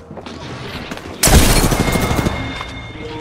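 Gunshots in a battle royale game, a single loud sudden blast with a crackling, rumbling tail that fades over the next second, after quieter background game sounds.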